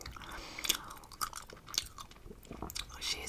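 Gum chewed open-mouthed right at the microphone, with soft wet clicks and smacks in an irregular rhythm against a quiet background.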